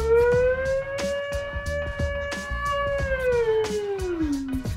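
A human voice imitates an ambulance or police siren, holding one long wavering tone that rises slightly and then slides down, with scattered sharp clicks around it.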